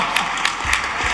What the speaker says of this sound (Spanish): Un aplauso para el sueño de Gemma, brutal.